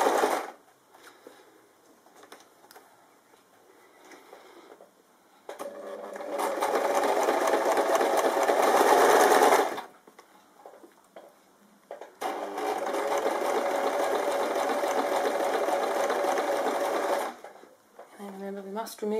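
A sewing machine fitted with a bias binding foot stitches bias binding in two long steady runs of close motor whirring. Quieter stretches with talk come before, between and after the runs.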